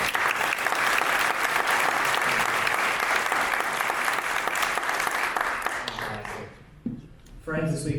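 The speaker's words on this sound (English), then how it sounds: "a round of applause for our moderator for the evening" Loud sustained applause from the audience at a Texas primary election candidate forum fills the room for several seconds, then fades as a voice begins speaking.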